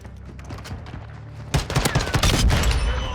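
An RPK light machine gun fires in Modern Warfare 2. After a quieter stretch of distant shots, a loud, sustained automatic burst breaks out and rattles on to the end.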